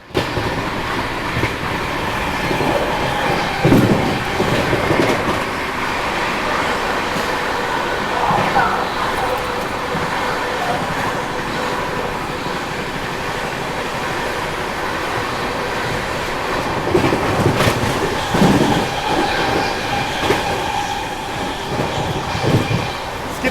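An express train, the Mahabodhi Express near Prayagraj, rumbles along at speed, a continuous roar with rhythmic clatter of wheels and occasional squeals, heard from on board with some voices underneath.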